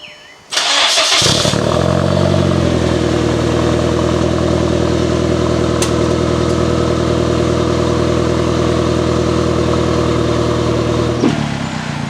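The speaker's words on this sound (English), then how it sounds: "How about a cold start for the morning?" A Mk4 Jetta engine cold-starts with a brief cranking whir, catches and revs up, then settles into a loud, steady, slightly high idle close by until a sudden cutoff near the end.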